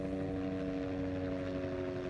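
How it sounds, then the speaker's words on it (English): A helicopter flies overhead, giving a faint, steady droning hum with a buzzy, even rotor tone that holds unchanged throughout, heard at a distance with no talking. "Where the helicopter at?"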